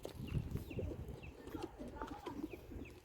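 Pigeons cooing inside a loft, soft repeated low coos from several birds close by, with faint higher chirps and someone talking quietly underneath.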